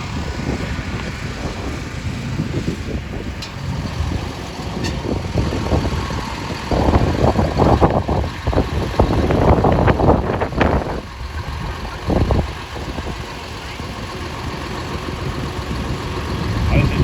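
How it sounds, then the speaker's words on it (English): A big 14-litre ex-military Scammell diesel truck engine rumbles and idles nearby at a steam rally, a deep, steady throb that swells louder for a few seconds before settling. "Big old Scamel, ex-military. Now, from what I can remember last year, I think it was a 14-litre diesel engine"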